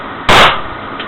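A single loud, sharp pistol shot crack at a firing range with a short reverberant decay, close by, followed by a faint click.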